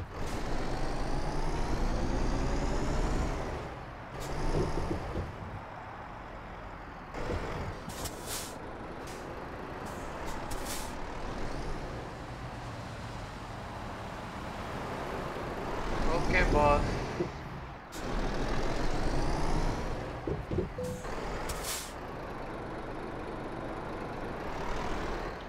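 Truck engine rumbling through Euro Truck Simulator 2 traffic while hauling a refrigerated double trailer, with short hissing air-brake bursts and other passing vehicles, steady and loud throughout beneath someone speaking.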